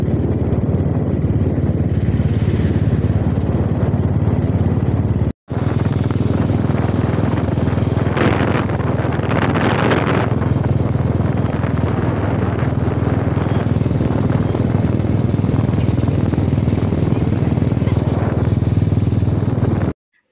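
A motorcycle engine runs steadily and close by for about twenty seconds, a constant droning rumble with some clatter, broken by a single short gap near the five-second mark.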